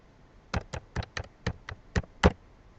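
Someone types a password on a computer keyboard, producing about eight crisp, evenly spaced key taps at close range in an otherwise quiet room with no talking.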